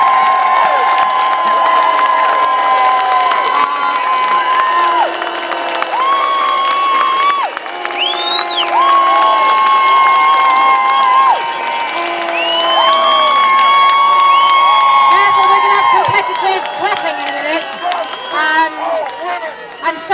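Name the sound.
crowd cheering at rally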